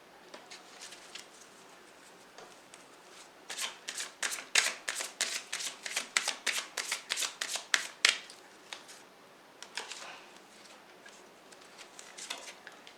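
Tarot cards are shuffled by hand, rapid riffling bursts building to a dense run of crisp flicks midway, then a few quieter shuffles near the end, close and without talk.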